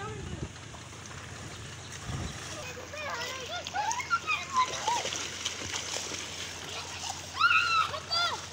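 Water splashes from a child playing in a hotel swimming pool in Karachi, Ramada Hotel, irregular slaps and splatters close by, with children's voices and excited talk over the top.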